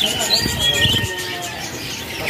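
Canaries chirp and tweet in quick bright bursts, fairly close, with soft background noise.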